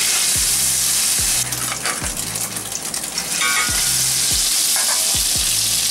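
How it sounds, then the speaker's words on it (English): Cutlets frying in a hot All-Clad D3 stainless steel sauté pan, a loud dense sizzle close by with periodic low rumbling pulses and a brief surge of spattering partway through. "Because the pan is hotter, the cutlets are cooking quicker."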